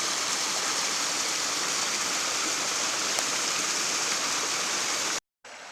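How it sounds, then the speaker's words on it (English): Moose Creek, a mountain creek along a hiking trail near Twin Lakes, rushing in a steady, full-bodied wash of water that fills the whole stretch, then cuts out briefly near the end before resuming. "That is Moose Creek."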